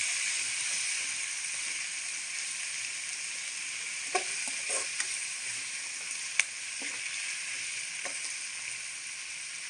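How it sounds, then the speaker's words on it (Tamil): Tomatoes are sautéed in a pan for a sardine fish curry, making a constant soft sizzle and hiss with a few brief clicks from stirring scattered through it, and no voices. "அடுத்து தக்காளி ஆட் பண்ணிக்கோங்க பச்சை வாசனை போகிற வரைக்கும் நல்லா வதக்கிக்கோங்க"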